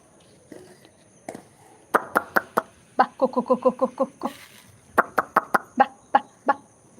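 Chickens cluck close by in quick rhythmic bursts of short clipped notes, separated by brief pauses in an otherwise quiet setting.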